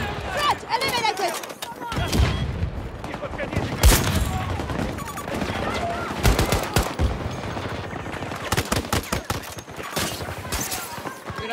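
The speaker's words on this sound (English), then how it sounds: "Had a fucking robot shooting at us." Robot gunfire in Battlefield 2042, dense bursts of automatic shots with blasts and impacts crackling through a chaotic battle soundscape, loud and continuous, with voices talking over it.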